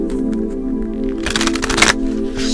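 A deck of playing cards being shuffled, a dense rapid riffle burst lasting about half a second amid low background hum and faint handling clicks.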